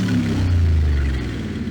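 An LS-swapped Foxbody with a newly changed throttle cable runs loud, a deep, rumbling engine idling close by and briefly swelling before easing back.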